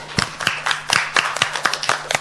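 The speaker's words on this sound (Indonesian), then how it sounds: "Kita kasih tepuk tangan dulu buat kita semua" Hands clapping in a classroom, a small group applauding with distinct, uneven claps spaced across a couple of seconds, fairly close and moderately loud.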